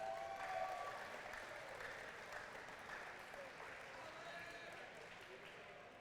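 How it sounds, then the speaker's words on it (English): An audience applauds two contestants at a STEMley Cup competition. The clapping is faint and distant, a continuous wash that stays fairly even for six seconds, with soft crowd sounds mixed in. "Let's give them a good round of applause."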